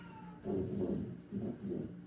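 A cat meows twice, faint and somewhat muffled, with a brief pause between the two cries.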